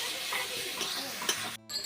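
Minced meat, 200 grams cut very small, sizzles and hisses in a pan of spice masala for Moglai paratha filling, a steady quiet frying crackle with a stir and a brief clink.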